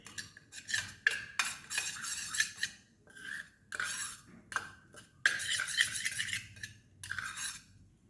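Masala mixture being stirred in a cooking pot, with close, repeated scraping and rasping strokes of a spoon against metal in uneven bursts separated by short pauses.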